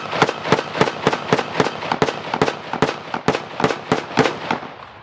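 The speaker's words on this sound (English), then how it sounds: "we're beginning to hear rebel soldiers beginning to fire back" Rapid, loud gunfire from rebel soldiers in the Donbas rings out as a sustained string of sharp cracks, about a dozen shots fired in irregular quick succession nearby.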